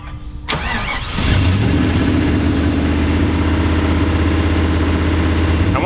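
A modified 700-horsepower Volvo sleeper car hooked to jumper cables cranks briefly, then catches and settles into a loud, steady rumbling idle close by, with no one talking.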